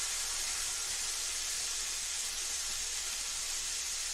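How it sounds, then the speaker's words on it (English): Marinated salmon sizzles skin side down on a griddle, a steady, even hiss that fills the whole stretch with no talking. "Can you hear that sizzling?"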